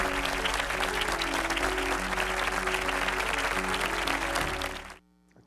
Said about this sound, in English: let's give a warm, real platform welcome with a round of applause